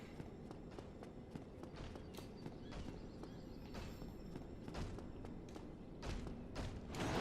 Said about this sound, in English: I thought I heard some heavy footsteps.